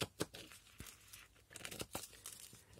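Scissors cut through a folded paper pouch made from tea bag sachets, giving close, crisp crinkling and tearing snips in several short bursts with quiet pauses between, no talking.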